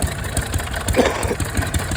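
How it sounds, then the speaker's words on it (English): An early 1930s Caterpillar 800T gas air-cooled power unit, the smallest engine Caterpillar built, running with a steady low, pulsing chug, loud and close, on its own. "early 30s Caterpillar model 800T power unit. This is Cat's smallest engine built ever, and only gas air-cooled engine produced"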